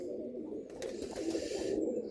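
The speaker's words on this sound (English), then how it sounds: "So she's a beautiful pigeon." A pigeon hen coos softly and steadily in a low murmur close by, with no talk.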